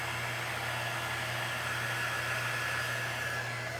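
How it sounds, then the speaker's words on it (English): A heat-gun style dryer blows hot air over wet paint on a cup sign, producing a steady, fairly quiet whooshing hum with a faint tonal whine and no break throughout. "In fact, I'm about to pull out the Mac Daddy dryer."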